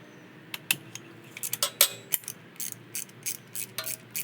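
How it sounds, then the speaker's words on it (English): A ratchet clicks in short bursts while tightening a 16 mm crankshaft socket on a 1999 BMW R1200C motorcycle, a close run of sharp metallic ratcheting strokes with brief pauses between them and no talking. "You can put that on, tighten it down."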